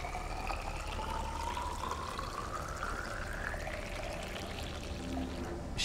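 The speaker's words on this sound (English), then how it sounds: "Other than water pouring." Water pouring steadily into a bottle inside the Subnautica underwater survival game, a continuous trickling stream with a rising pitch as the bottle fills, heard alone for several seconds.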